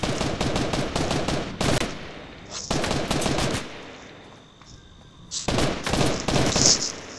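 Rapid automatic gunfire in Fortnite, loud bursts of repeated shots in three separate volleys with quieter gaps between them, no voices.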